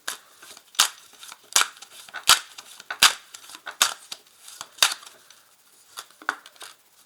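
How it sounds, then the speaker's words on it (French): Crisp paper cards snapped and laid down during a tarot-style reading, about ten sharp close flicks in an uneven rhythm, alone without talk. "Alors je vais ajouter des cartes."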